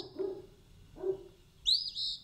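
An Eastern Phoebe calls at night: two low soft notes followed by a louder, higher, buzzy two-part call, fairly close and alone.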